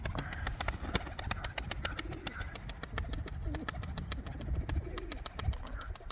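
Rock pigeons coo in low, repeated, burbling calls, moderately close, while a brisk ticking clatter repeats steadily throughout.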